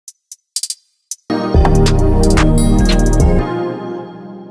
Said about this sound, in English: something I always do with my hi-hat also is I'll add very light reverb.